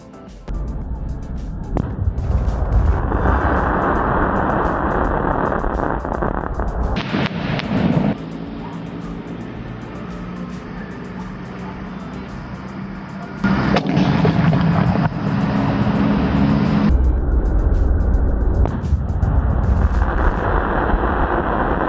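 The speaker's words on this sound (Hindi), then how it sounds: "हमने इसके 2 स्काई शॉट की टेस्टिंग करी और दोनों ही स्काई शॉट काफी बढ़िया चले" Chidambaram sky shot fireworks launching outdoors in 2022, a loud sustained roar of bursts and crackling that fills the clip, with a quieter dip in the middle before the din returns.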